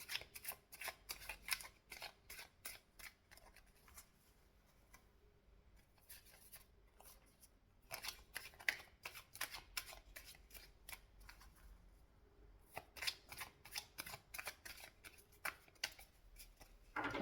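Tarot cards shuffle close up, crisp repeated riffles and quick flicking bursts that come in clusters, with brief pauses between rounds and no talking.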